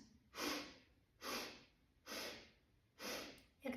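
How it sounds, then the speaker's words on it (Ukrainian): Four short, distinct nasal sniffs follow one another at an even pace, each a breathy inhalation through the nose, recorded close and quiet as part of a relaxation breathing exercise. "Ми будемо вдихати на 4 підвдихи через ніс."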